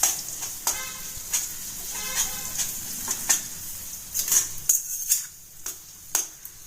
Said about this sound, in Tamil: அந்த நேரத்தில் ஏற்கனவே மசாலா சேர்த்துருக்க கீரையை இதோட சேர்த்து நல்லா மிக்ஸ் பண்ணுங்கள்.